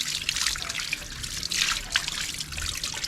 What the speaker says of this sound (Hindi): एहतियात के साथ पानी डालें, जिस तरह मैं डाल रहा हूँ